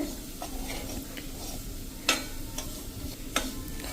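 Gram flour crumble roasting in ghee for laddu, a steady soft sizzle with faint stirring scrapes and a couple of sharp clicks of a spoon against the pan.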